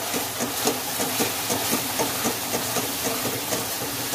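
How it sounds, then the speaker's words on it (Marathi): Masala frying in hot oil in a pan for a fish curry, a continuous loud hissing sizzle with faint rhythmic pulses from stirring, steady from start to finish. "आपण मसाला व्यवस्थित फ्राय करून घ्यायचा आहे।"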